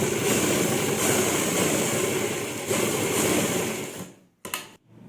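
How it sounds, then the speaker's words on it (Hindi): A sewing machine stitches pleats on ladies' pants with a steady, fast whirring hum that runs continuously for several seconds, then stops abruptly, followed by a brief restart and a final short burst. "उसी तरह से हम अपनी दूसरी प्लेट पर भी सिलाई लगाएंगे।"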